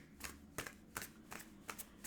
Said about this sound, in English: Not one more card, but one more shuffle.